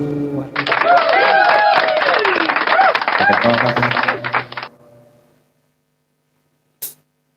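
Steady, fairly close applause in a live-streamed music studio session, dense clapping lasting about four seconds under background music with speech, then fading to silence before a short isolated tap.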